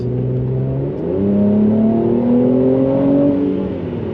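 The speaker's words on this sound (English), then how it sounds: "let's give it the beans and see what it's got" A Mercedes C43 AMG in Sport Plus mode accelerates hard, its engine note climbing through a rising, loud growl that drops briefly at a shift before surging again, close and without voices.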